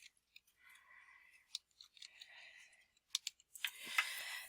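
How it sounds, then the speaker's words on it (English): Keys tapped on a computer keyboard while entering a field label in database software, coming as quiet, scattered clicks in short bursts that cluster into a faster flurry near the end. "we're going to type coordinator."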